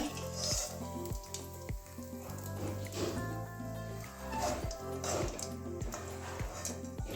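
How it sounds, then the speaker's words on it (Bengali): Papad frying in hot oil gives a steady, soft sizzle and bubbling throughout, underneath a louder musical backing track that dominates the sound. "বাকি দুটো ওইভাবেই ভেজে নেবো"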